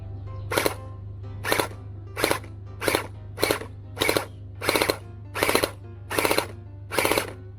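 A gel blaster gun firing gel balls in short bursts, about ten evenly spaced rapid rattling volleys, close and loud over a steady low hum.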